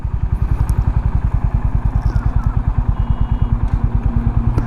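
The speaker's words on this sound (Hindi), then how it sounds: "धीरे धीरे दोनों ब्रेक को धीरे धीरे दबाएंगे और इस तरह से हमारी बाइक रुक जाएगी" A motorcycle engine runs with a steady, loud low-pitched putter of even pulses throughout, close by, as a learner rider pulls the clutch and gently applies both brakes to bring the bike to a stop.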